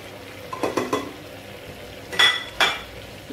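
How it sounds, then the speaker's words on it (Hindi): Mutton liver frying with ginger garlic paste and powdered spices in a pan, heard as a few short stirring and utensil scrapes against the pan over a faint, steady background, with no talk. "मसाले ऐड करने के बाद इसको भी अच्छे से फ्राई कर लेंगे।"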